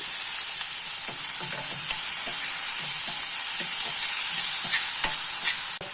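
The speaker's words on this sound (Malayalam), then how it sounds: "ഒരു സവാള അരിഞ്ഞത് നമുക്ക് വഴറ്റണം, നല്ലോണം വഴറ്റണം." Chopped onion sautéing in a pan for sambar, with a loud, steady sizzle and occasional scrapes and taps of a spoon stirring.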